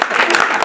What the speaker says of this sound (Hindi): एक बार तालियां वाले बजा दें भाई।